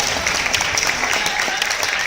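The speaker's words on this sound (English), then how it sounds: "Give Crystal Smith an applause." Audience applause at a high school poetry slam for a guest judge, a dense steady wash of clapping throughout, with some voices mixed in.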